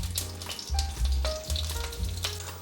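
Starch-coated gluten sausage pan-frying in pure olive oil, a close, lively sizzle with crackling bursts and steady frying hiss throughout.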